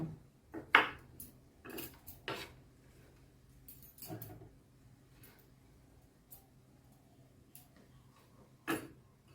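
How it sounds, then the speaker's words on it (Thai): Sparse knife taps on a cutting board while slicing large garlic into thin slices, a few sharp chops near the start then scattered quieter clicks with long pauses between. "อันนี้มันเป็นกระเทียมหัวใหญ่ ก็เลยหั่นให้เป็นแผ่นบางๆ"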